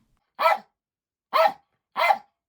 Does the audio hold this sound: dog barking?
yes